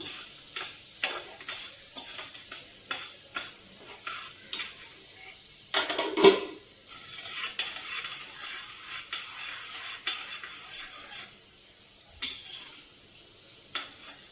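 Dried red chillies frying in a pan for a pesarapappu pindi nelwa pachadi, with steady soft sizzling and repeated stirring scrapes, one louder clatter of utensil against the pan midway.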